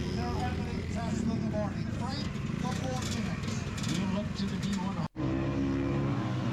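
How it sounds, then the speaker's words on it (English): Vintage motorcycles, among them a 1974 Husqvarna-style 175, roar away together at an enduro race start, a dense continuous engine drone with rising revs, with a brief dropout near the end and voices mixed in. "So here the vintage bikes are taking off."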